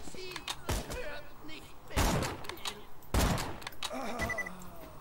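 Gunfire in the Borderlands 2 video game comes as three sharp, loud shots spaced roughly a second apart, each ringing out briefly over quiet game background.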